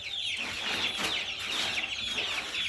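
Chickens in a poultry battery cluck and chatter continuously, several birds close by in a busy, overlapping chorus.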